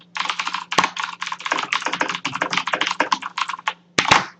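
Rapid, continuous typing on a very loud clicky computer keyboard, dense sharp keystrokes close up, pausing briefly near the end before a final burst.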